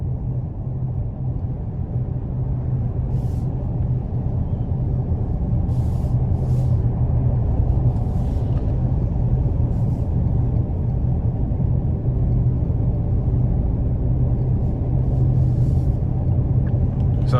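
A 2020 Lincoln Continental with a twin-turbo V6 cruises along, giving a steady low engine and road rumble from inside the cabin, with no clear shifts or changes.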